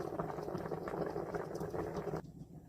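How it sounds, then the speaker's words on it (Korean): Pumpkin porridge bubbles and simmers in a pot, giving a soft, continuous burble of popping bubbles at close range that quiets abruptly near the end. "호박은 지금 보글보글 안에서 끓고 있어요"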